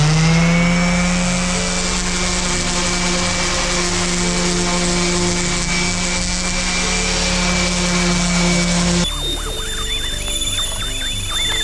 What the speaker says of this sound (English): I got some sandpaper here for my sander. So let's smooth these boards down